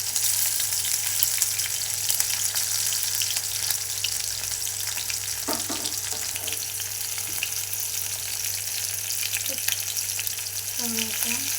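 Onions and green chilies fry with cumin and mustard seeds for semiya upma, giving a steady, loud sizzle across the whole stretch, broken now and then by brief spoon scrapes against the pan. No one speaks.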